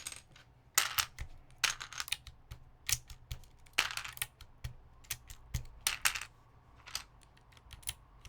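Keycaps being pulled off and pressed onto tight keyboard switches on a keyboard with a polycarbonate half plate and aluminum inner plate, giving sharp irregular plastic clicks and clacks, some in quick clusters, close and clear against a quiet background.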